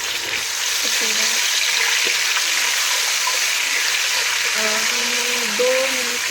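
Ginger garlic paste and fenugreek seeds frying in a pan: a constant, close hissing sizzle, with a voice talking over it at times.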